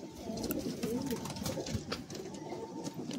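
Madrasi and desi pigeons cooing at a bird sale in Bagnan, Howrah, with soft repeated throaty coos close by over a busy, faintly noisy background.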